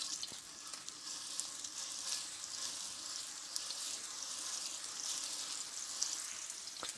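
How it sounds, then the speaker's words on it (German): Meatballs sear in a preheated frying pan with a steady, dense sizzle that holds for the whole stretch, close and even, with a few brief crackles and no talking. "Das Ganze werden wir anbraten in unserer Pfanne"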